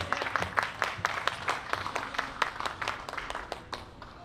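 Audience applause at a university exhibition performance, steady, moderately loud clapping from a small crowd that continues throughout with a slight murmur under it.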